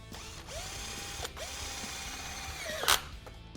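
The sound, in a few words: cordless screwdriver driving screw into drywall profile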